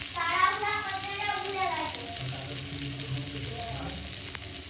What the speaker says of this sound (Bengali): দেখুন আদা কিছু ভাজা হয়ে গেছে।